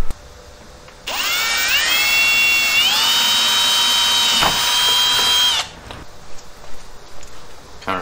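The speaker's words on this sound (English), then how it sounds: "I'll start pre-drilling the holes." A power drill whines steadily for several seconds, pre-drilling screw holes in the wicker of a Hawks wing spoiler on an 82-92 Camaro, its pitch rising as it spins up, then cutting off into quiet handling noise.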